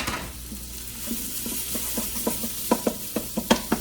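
Carnitas being stirred as they fry in a pan, with a steady sizzle under a series of sharp scraping stirs that grow louder and more frequent toward the end.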